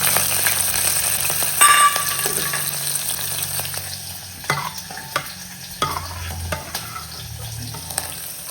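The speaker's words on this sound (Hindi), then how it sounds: "यहाँ पर दाल में तड़का लगा देते हैं" Spices sizzling in hot oil for a dal tadka in a home kitchen, a steady frying hiss with occasional stirring clatter and a few spoon knocks toward the end.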